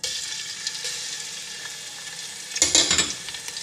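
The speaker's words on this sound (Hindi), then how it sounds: "सबसे पहले हमने लहसुन अदरक का पेस्ट इसमें ऑयल में डालना है" Garlic ginger paste sizzles steadily in hot oil in a pan, making a close, constant hiss, with a burst of clattering stirring near the end.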